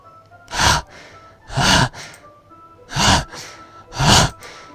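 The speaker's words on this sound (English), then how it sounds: "It sounds like breathing. A sharp inhale, like someone is sucking the air through their teeth." Four sharp inhaling breaths from the video game DDLC Plus, each a loud, hissing gasp of air drawn through the teeth, spaced about a second apart with quiet between them.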